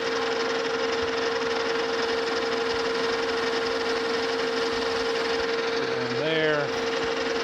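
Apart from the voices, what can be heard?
chamfering corners of a handle on a horizontal boring mill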